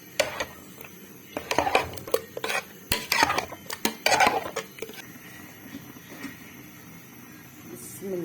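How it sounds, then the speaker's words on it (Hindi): Utensil clatters and scraping in a kadhai as ingredients are stirred, with a few loud bursts of metal-on-metal stirring mid-way, then quieter clinks and background noise. "अब आपने इसको अच्छे से हिला लेना।"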